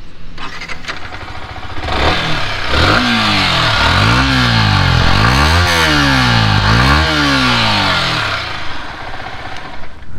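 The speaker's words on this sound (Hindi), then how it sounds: "अभी हम करते हैं गाड़ी का एग्जॉस्ट नोट" A 2021 Yamaha R15 V3 in metallic red revving its exhaust: loud, close blips rising and falling in pitch several times in quick succession over a steady idle, with no talking.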